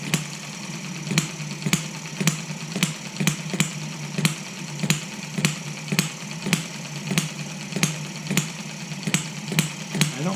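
A model hit-and-miss engine runs alone, firing in sharp, evenly spaced pops about twice a second over a low mechanical chug, close and steady with no voices.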